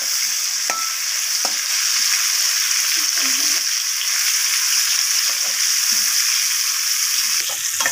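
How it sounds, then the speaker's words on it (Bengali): Papaya pieces frying in oil in a pan, a steady loud hiss and sizzle throughout with occasional soft stirring clinks and spatters, close by. "মিশিয়ে ভালোভাবে পেঁপেটাকে লাল লাল করে আমি ভেজে নেব"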